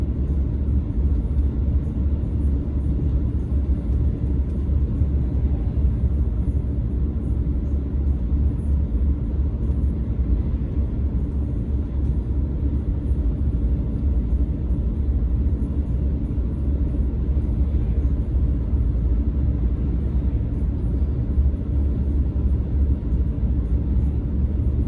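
A heavy truck pulling a Brillion Land Commander 5 shank ripper across a farm field produces a continuous deep engine rumble. The drone stays steady and loud throughout, with no speech.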